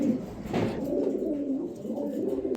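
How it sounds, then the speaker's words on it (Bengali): A female pigeon coos in a continuous low, rolling murmur close by, steady and moderately loud throughout with a faint brief rustle partway through. "দেখেন দর্শক মাদি কবুতরটা কত সুন্দর"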